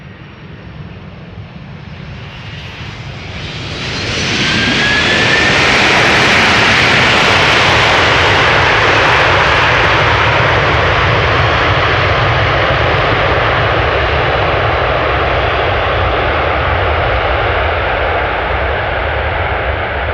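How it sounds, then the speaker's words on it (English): An airliner landing at Amsterdam Schiphol passes close by and engages reverse thrust, building from a distant whine into a loud, sustained roaring rush of jet noise that holds steady and then slowly eases. No one speaks. "Those pilots engaged the reverse thrust right as they passed us by"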